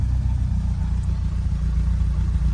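A Lotus Elan restomod engine idles on freshly tuned carburettors, a low, steady burbling rumble with a slight rhythmic lope, close and continuous with no talking over it.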